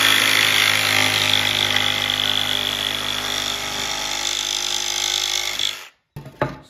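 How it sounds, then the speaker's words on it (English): A jigsaw cuts wood for a chick brooder build with a loud, steady buzzing drone for about six seconds, then stops abruptly, followed by a couple of brief clunks. "So I found my jigsaw and I just went like this and cut it"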